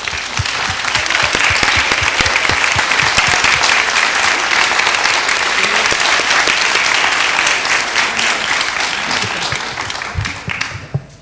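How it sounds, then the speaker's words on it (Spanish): Sustained audience applause for the speakers of a law and migration panel session, a dense, loud wash of many hands clapping steadily for about ten seconds before tapering off abruptly near the end. "les solicito por favor un aplauso para los expositores"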